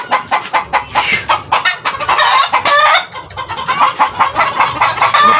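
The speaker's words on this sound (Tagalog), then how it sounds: "Napakaingay itong mga manok" A crowd of chickens at a bamboo-housed breeding farm clucks noisily and nonstop, dense loud close squawks in a choppy rhythm with a rooster's crow threaded through, no talk.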